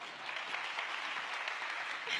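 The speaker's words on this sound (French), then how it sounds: "Et vous applaudissez." Dense, steady applause from a comedy show audience fills the short stretch, a continuous wash of many hands clapping at even loudness with no voice on top.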